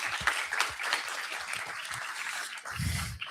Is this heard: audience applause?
yes